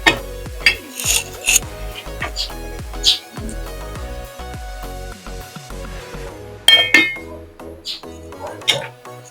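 Clanks and clinks of a lid and cookware on a cooking pot set on a woodfired stove, several sharp metallic knocks spread irregularly across the clip, close and fairly loud, among lighter rattles.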